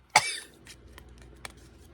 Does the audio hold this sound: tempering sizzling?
no